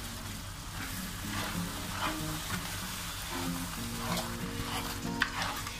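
Sofrito frying in a pan sizzles steadily while a utensil stirs and scrapes through it, close and moderately quiet, with a small clack near the end and a faint background hum.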